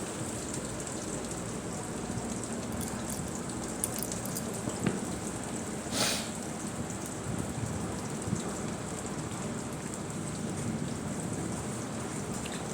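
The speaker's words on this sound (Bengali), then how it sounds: "তেল গরম হয়ে গেছে, এবার মা পেঁয়াজ আর রসুনটা ভেজে নিচ্ছে।" Chopped onions and whole garlic cloves fry in hot oil, giving a steady, even sizzle that continues at the same level throughout, with a few faint pops.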